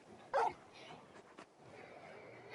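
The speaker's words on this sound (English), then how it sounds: "You're just a big puppy, aren't you? A very big puppy." Torgal, a big dog in a video game, gives one short sharp yelp-like bark followed by soft whimpering sounds, quiet and close, with faint background game ambience.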